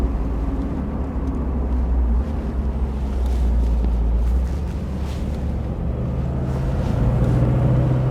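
A Mercedes W111 S-Class 3.5 coupe, the last hand-built Mercedes, driving sportily on a racetrack: a steady low engine rumble and road noise, rising slightly in pitch near the end.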